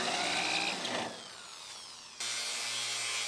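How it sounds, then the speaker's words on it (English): Power drill boring out spot welds on the steel chassis of a 2015 car being trimmed for a 1965 Mustang build, a loud continuous whining drill that drops in level midway, then resumes with a steady motor hum. "start drilling out the top"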